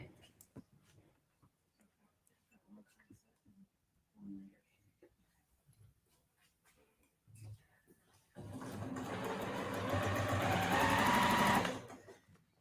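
A freshly cleaned and oiled sewing machine stitches a quilt block, running in one steady, loud, fast burst of needle strokes near the end after quiet handling noises.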